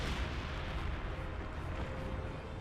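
Mortar pits and Priest self-propelled artillery pounding the field in a Company of Heroes 2 3v3 match, a continuous, moderately loud roar of distant blasts and rumbling fire with no clear pauses.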